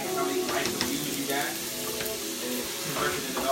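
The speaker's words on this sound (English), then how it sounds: "Now, the potatoes are still cooking." Potatoes fry in a pan alongside onions with a steady crackling sizzle, with occasional stirring and faint voices in the background.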